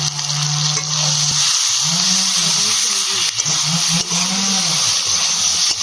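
Potatoes and fish fry in a pan with a constant sizzling hiss, while intermittent scraping and stirring strokes come and go close by.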